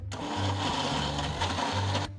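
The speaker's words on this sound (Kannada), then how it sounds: "ಇದನ್ನೇ ಮಿಕ್ಸಿ ಮಾಡ್ಕೊಂಬಿಡ" A mixer grinder whirs loudly and steadily as it blends gongura chutney with salt and a little jaggery, its motor drone pulsing slightly as the blades churn, then cutting off at the end.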